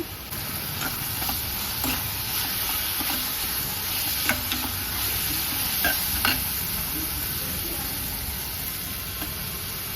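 Tomatoes fry steadily in a hot pan, with occasional sharp clicks and scrapes of stirring over the constant frying hiss.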